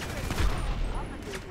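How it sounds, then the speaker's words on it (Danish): Explosive-round gunfire in the video game GTA 5 booms in a dense, rapid burst of blasts with rumbling low-end impacts, loud and close, with game sound effects around it. "Jeg tror, vi kan gøre lidt bedre endnu ved faktisk at tage eksplosiv ammunition, så alle vores skud, de er bomber."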